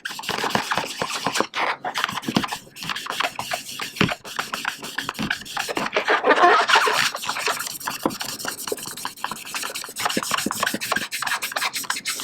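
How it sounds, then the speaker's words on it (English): A Mr. Clean type melamine sponge rubbed back and forth over a surface, steady close scrubbing strokes in a quick uneven rhythm, with no other sounds. "it's basically one of those Mr. Clean type things. And you just rub it off."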